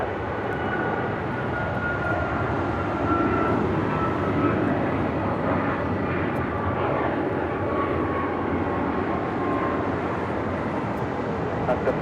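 An American heavy jet rolls for takeoff on runway 25 right at Los Angeles International, its engine roar a steady, broad rumble holding level throughout without a break.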